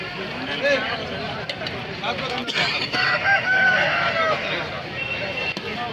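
Roosters crow and chickens cluck at a busy weekly Saturday poultry market in Akkirampura, mixed into steady crowd noise and nearby talking.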